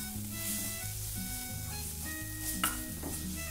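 Chilli powder sautéing in a pan, a soft continuous sizzle with light stirring scrapes and a brief clink of a spoon, over a low steady hum.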